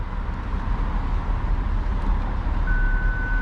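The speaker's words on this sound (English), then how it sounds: "as you can see, I put it into reverse and the car does not stall now" A steady reversing beep sounds after a 2016 BMW X5 is shifted into reverse, coming in late as one continuous tone over a low idling engine rumble.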